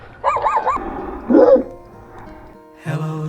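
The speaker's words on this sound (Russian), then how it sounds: "О, смотри, какая собака." A dog on a walk beside a river and puddles gives a few short barks and whimpering yips, close and fairly loud, followed by a brief later yelp.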